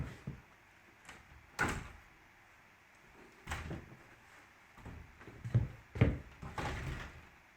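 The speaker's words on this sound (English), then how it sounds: "I've slid the door as far to the left as I can get it" A sliding door on worn wheels being pushed along its track during wheel renewal, giving a series of rolling rumbles and knocks with sharper thuds near the end, close and fairly quiet, with no talking.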